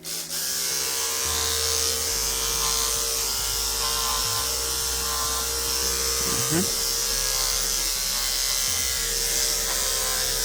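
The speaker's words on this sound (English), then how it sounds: "we're gonna start trimming with a clipper from this point" Electric clipper trimming a calm, well-behaved dog's coat, a steady close buzz running throughout with slight shifts in pitch as it moves, while a person talks over it.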